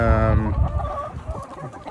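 Chickens and roosters cluck and squawk together in a barn, close and loud, with overlapping calls and a crowing note at the start.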